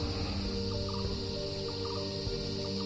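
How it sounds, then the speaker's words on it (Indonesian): Birds call repeatedly in a tropical Sumatran forest, short clucking and chirping notes over a constant bed of dense insect and jungle ambience, fairly close and clear with no talk. "Dan di sekeliling banyak bunyi burung berkicau."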